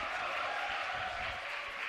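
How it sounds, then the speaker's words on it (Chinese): Congregation applauding during a Sunday church worship service, a steady, moderately faint wash of clapping from a gathered crowd with no talk over it. "掌声鼓励"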